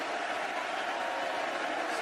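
Stadium crowd at a Barcelona football match applauding after a near-goal, a steady broadband roar of clapping and cheering through a brief two-second stretch, with a commentator's voice likely beneath it.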